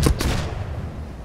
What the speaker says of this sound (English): Fire front cannon! Fire front cannon!